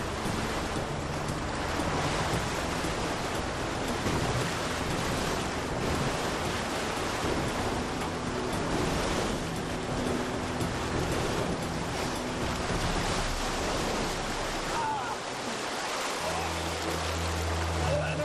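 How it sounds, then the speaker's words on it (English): Loud, continuous rush of a river in Ecuador flowing at up to 10 miles an hour, turbulent water roaring without pause, broadband and churning, with wind buffeting the microphone throughout. "The river flows at up to 10 miles an hour"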